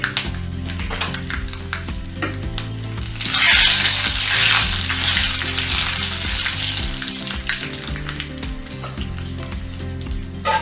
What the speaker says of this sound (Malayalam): 2 ഉണക്കമുളക്, 2-3 ഉണക്കമുളക് പൊട്ടിച്ചും കൂടി ചേർക്കാം.